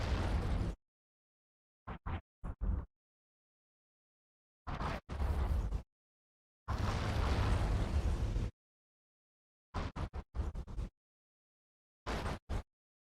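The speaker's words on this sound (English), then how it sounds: "He's shooting at me." Ship weapons firing in EVE Online during a low-security run, heard as separate loud bursts and booming blasts broken by dead silence, one longer rumbling stretch in the middle, with no voices.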